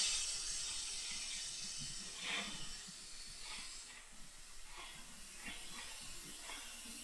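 A small brake bleeder pulls fluid from a motorcycle brake caliper on a 2009 Concours, giving a faint, steady hiss with soft intermittent gurgling spurts throughout.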